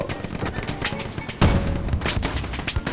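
Gunfire in the World War II shooter Hell Let Loose: dense, loud volleys of rifle and machine-gun shots with a heavier blast midway, close and continuous.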